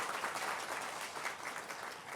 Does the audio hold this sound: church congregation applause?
yes